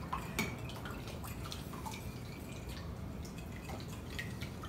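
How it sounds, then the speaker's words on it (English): A spoon stirs baking soda into hot water in a container, giving soft, repeated clinks and light liquid swishes, faint and close, with no talking. "So I'm going to stir it with a spoon."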